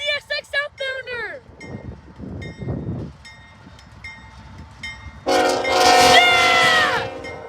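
A CSX 376 locomotive sounds its horn in a long multi-tone blast, with short chopped horn bursts at the start, rail noise in between, and an excited voice shouting nearby as the train passes.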